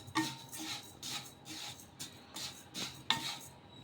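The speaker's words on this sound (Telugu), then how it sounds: "కప్పు సేమ్యా, కప్పు గోధుమ రవ్వ అయితే వేసుకొని వేయించేసుకుంటున్నాను" Vermicelli and wheat semolina dry-roasting in a pan, heard as faint, rhythmic scraping strokes of a spatula against the pan roughly twice a second, with light metallic clinks and no talk.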